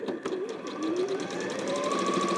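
A sewing machine stitches steadily over a seam in a quilt, its fast rhythmic whir running continuously at close range without any talk.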